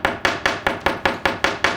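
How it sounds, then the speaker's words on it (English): Eight evenly spaced, crisp metallic taps ring out as the ball peen side of a hammer textures the edge of a metal earring, close up and steady, with no voices. "we're kind of just using the ball peen side as a texturing hammer"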